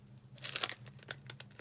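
A package being opened by hand, with close crinkling and quick tearing rustles over a low steady hum, no talk.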